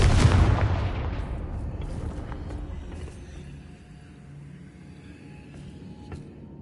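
A magical Confringo blast spell goes off in a game, with a loud booming explosion at the start that rumbles and fades away into a quiet echoing tail.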